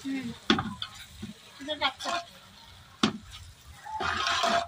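Noodles tipped into a pan of vegetable gravy are stirred with scraping, clinking utensil strokes and soft sizzling, in irregular bursts with a louder stretch at the close and some voices now and then.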